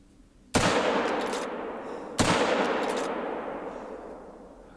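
Two loud rifle shots from a hunting game, fired at a distant black bear through a long-range scope, each a sharp crack followed by a long rolling echo, spaced about a second and a half apart with no talk.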